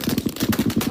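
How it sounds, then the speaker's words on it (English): Rapid, almost constant gunfire recorded on a mobile phone, a dense run of sharp cracks roughly ten to a second, muffled and distorted through the small device. "Much of which is almost constant gunfire."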